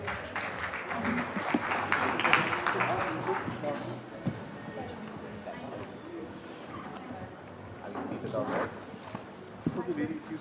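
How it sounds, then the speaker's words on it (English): An audience at a real estate conclave applauds as panelists are introduced: moderate clapping from a seated crowd, swelling and easing over ten seconds, mixed with footsteps and shuffling, with voices talking over it. "A round of applause"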